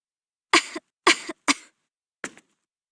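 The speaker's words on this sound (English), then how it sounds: "She sure was coughing a lot." A woman character in the PS2 game Star Ocean: Till the End of Time coughs four times, three quick harsh coughs followed by a softer one after a short pause, close and clear with no other sound.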